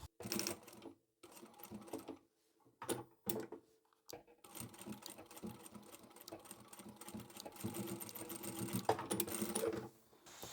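A sewing machine stitches across the end of a zipper to close the teeth on a notebook storage folder, running in short stop-start bursts before settling into a longer steady whirring run.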